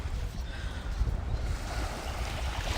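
Steady ocean waves wash onto a sheltered Australian beach at sunrise, a continuous broadband rush of surf with low rumbling swell, fairly close and even in loudness, with no voices.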